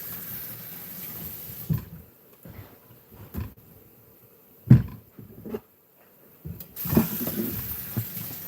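Chopped plantain is rinsed under running tap water, with intermittent bursts of splashing and gushing close by and quieter pauses between them.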